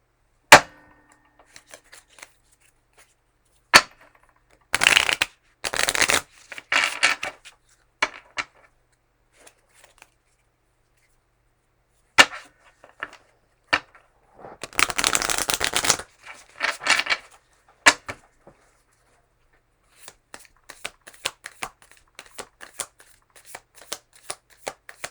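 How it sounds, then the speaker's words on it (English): A deck of tarot cards is shuffled and cut by hand: sharp single card snaps, two longer riffling bursts and a run of soft scattered taps, close up in a quiet room. "cards don't want to come out that easily, so we will cut it"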